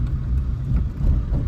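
A restored Hyundai Venue rolls along the road, giving a steady low rumble of engine and tyres from inside the cabin with no voices over it.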